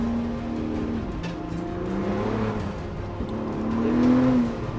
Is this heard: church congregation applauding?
no